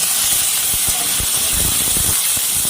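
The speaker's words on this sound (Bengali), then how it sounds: "এবার রসুনটা লাল হয়ে গেছে, পেঁয়াজ কুচি দিয়ে দিলাম।" Chopped onion fries in oil after garlic has browned, a loud continuous close hiss with bursts of crackle and low clatter throughout.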